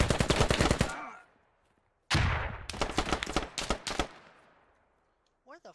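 Gunfire in the video game Squad comes as sharp, close bursts of rapid automatic shots with a short silence between volleys, then the shots trail off into quiet.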